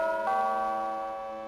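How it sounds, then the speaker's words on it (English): A bell pull rung in the Sherlock Holmes adventure game The Lost Files of Sherlock Holmes: The Case of the Serrated Scalpel, a single clear chime that rings out and slowly decays, heard alone. "Ring the bell pull?"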